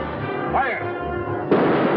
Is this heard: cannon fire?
yes